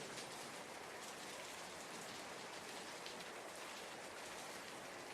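Steady rain pours down, a dense continuous hiss of drops on surfaces with no breaks, even and enveloping at a soft level.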